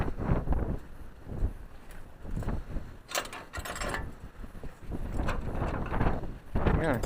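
Wind blows outdoors on a chilly day, buffeting the microphone in uneven gusts, with a few mechanical clicks and knocks mixed in.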